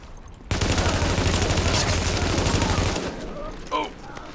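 Sniper and automatic gunfire in the video game The Division, a dense fusillade of rapid shots bursting in and continuing for a few seconds before cutting off, with speech around it.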